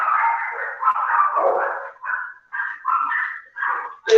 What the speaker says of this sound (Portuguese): Eu odeio esses cachorros.